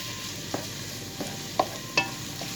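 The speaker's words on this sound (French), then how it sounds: "Je prends mes carottes, je les fais revenir également avec l'oignon." Carrots and onion sautéing in a pan, with a soft steady sizzle under four sharp, separate scrapes and knocks of stirring spaced roughly half a second apart.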